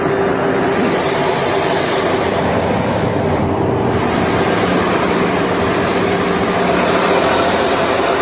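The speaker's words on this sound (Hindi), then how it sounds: "इस एयरबेस से आज ही दूसरे विमान ने भी उड़ान भर दी" A military aircraft taking off from Hindan airbase in Ghaziabad roars as a loud, steady broadband rumble, with the engine noise constant throughout and no talk.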